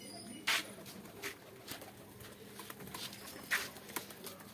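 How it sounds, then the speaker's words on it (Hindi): Pigeons cooing in a loft, soft throaty coos mixed with a few sharp rustles and patters of movement at moderate distance. "यहाँ सारे कबूतर हैं।"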